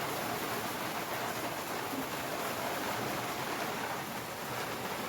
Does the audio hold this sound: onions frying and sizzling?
no